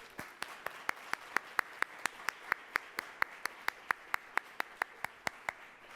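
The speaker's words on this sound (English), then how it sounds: "let's give all of those sponsors and partners an incredible round of applause" Steady, evenly spaced single claps, roughly four per second, crisp but faint in a quiet room at an Ohio politics forum, with no talk over them.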